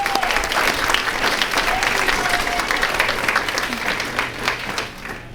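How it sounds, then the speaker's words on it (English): Sustained audience applause at an awards ceremony, a dense wash of clapping from a large crowd that holds steady throughout and eases slightly near the end. "please give her a round of applause again."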